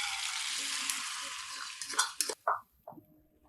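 A spicy omelette with onion and coriander fries in oil in a kadai over a low flame, giving a bright, close sizzle that cuts off partway, followed by a few scattered clinks and taps.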